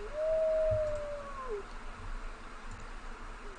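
A timber wolf in the zoo-building video game Planet Zoo lets out a single long, clear, rising and falling howl over a low ambient game background.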